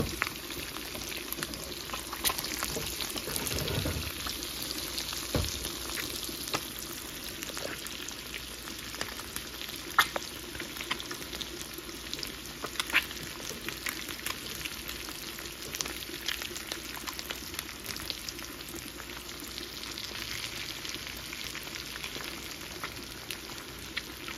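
Eggs fry in a pan, turned once the underside browns, giving a continuous crackling sizzle with dense popping spatter that holds steady throughout.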